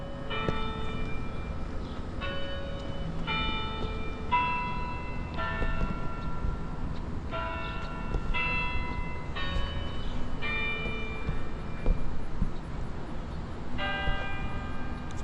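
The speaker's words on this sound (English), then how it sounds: "The church bell." A church bell rings in Taylorsville, West Virginia, with repeated clear metallic strikes in a steady pattern and ringing overtones that linger between hits, over a low rumbling background.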